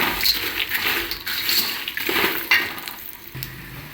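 Corn flakes and puffed corn being added to hot seasoning oil in a pan for Karimnagar-style flattened rice chivda, giving a steady, close crackling sizzle with light scraping throughout.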